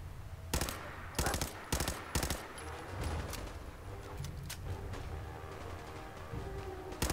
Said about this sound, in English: It sounds like our objective is towards the gunfire